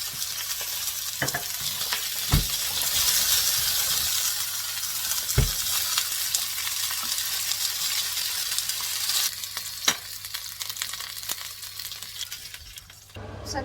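Spanish chorizo sizzles in a hot pan beside crispy, golden-skinned Alaskan salmon, a steady loud frying hiss running throughout with a few sharp clinks of a utensil against the pan.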